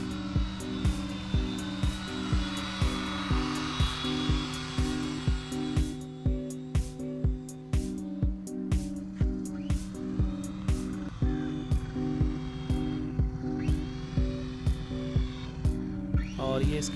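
Small RC plane built from broken RC helicopter parts, its electric motor whining high and buzzing as it flies and comes in to land, with regular rhythmic pulses and rising and falling pitch throughout.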